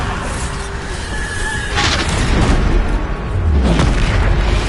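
Booming spell blasts from the Bombarda spell in Hogwarts Legacy, two heavy explosions about two seconds apart, loud and close, each with a rumbling low tail over dense game noise.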